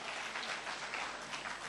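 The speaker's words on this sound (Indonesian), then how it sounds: "Berikan tepuk tangan." A church congregation applauding during a sermon, a dense, even wash of clapping from many hands filling the room, steady throughout the brief moment.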